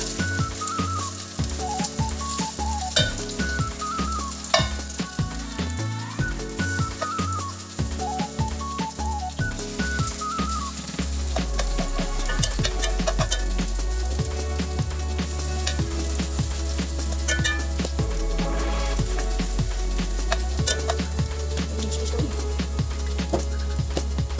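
Chicken fillet chops sizzle and fry steadily in a pan, a continuous close crackling hiss with occasional light clinks of a utensil, no voices.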